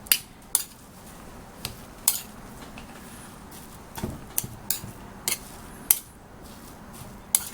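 A metal spatula scrapes and clinks against a pan while stink beans are stirred together with shrimp paste and fresh shrimp, giving sparse, sharp knocks at an uneven pace with no talk.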